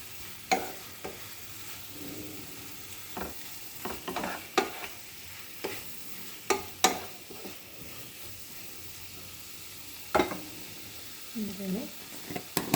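Brinjal fry with coriander and curry leaves sizzles softly in a pan while a spoon stirs it, scraping and clinking in scattered sharp strokes over a quiet steady hiss.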